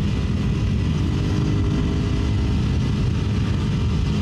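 A Suzuki Satria FU motorcycle with an overbored DOHC engine held at high revs near 9000 RPM, a dense, steady, loud engine drone that stays constant without pauses.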